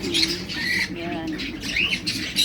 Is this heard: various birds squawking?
yes